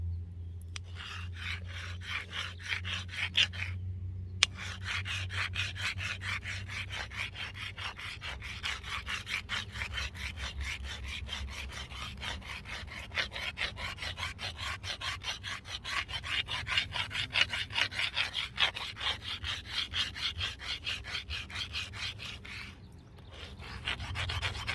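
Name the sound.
filing stone to make a primitive stone chisel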